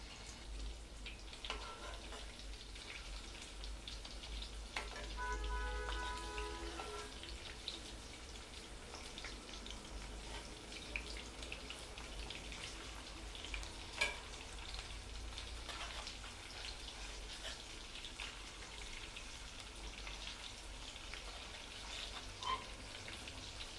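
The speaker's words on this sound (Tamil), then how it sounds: "இப்போ நம்ம சிம்மில் வச்சு பொரிச்சுக்கலாம்" Prawns sizzle gently in a little oil over a low flame, a faint, steady crackle and hiss lasting throughout, with occasional small pops and light clinks of a utensil.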